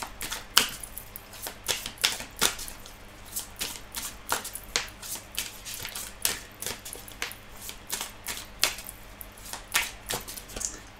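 Tarot cards are reshuffled by hand in quick, dry clicking riffles and taps that repeat steadily up close, with no talking.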